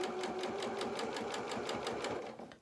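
A sewing machine stitching a fisherman's top, a rapid even needle clatter running steadily up close before tapering off at the end.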